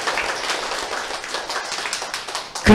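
A seminar audience applauding steadily, a dense wash of many hands clapping that carries on without a break until a louder thump at the very end.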